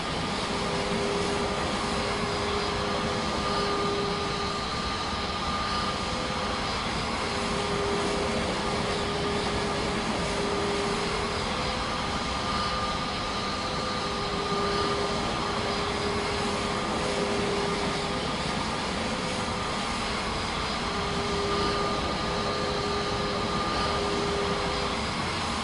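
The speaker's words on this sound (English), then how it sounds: "Let's turn on the reverse thrusters and move it over more." Reverse thrusters roar on an aircraft in Microsoft Flight Simulator 2024, a dense, unbroken jet rumble and whine held at constant loudness throughout, with faint steady tones riding over it and no talk.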